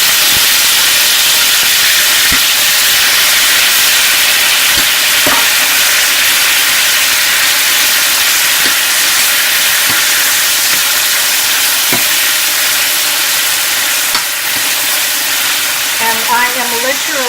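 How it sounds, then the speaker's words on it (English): Beef sears in a pot of hot olive oil and melted butter over medium-high heat, a loud, continuous, close sizzle with occasional clinks of utensils and faint pops. "now I'm going to add my beef to the pot"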